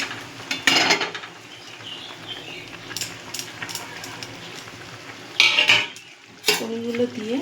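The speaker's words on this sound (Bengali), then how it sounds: "ঝোলটা ফুটে গেছে, এবার আমি পনিরগুলো দিয়ে দেবো।" Paneer pieces being added to a simmering gravy in a pan, with clattering utensil knocks and scrapes against metal in several bursts over a soft background bubble, fairly close.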